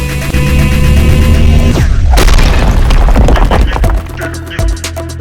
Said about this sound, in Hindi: तो धूल और गैस कणों से बने हुए नेबुला में होता है एक सुपरनोवा विस्फोट।